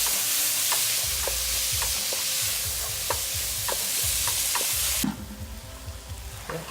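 Shallots fry in a pan with a steady, loud sizzle, broken by regular stirring scrapes roughly every half second; partway through, the sizzle drops to a softer, lower crackle.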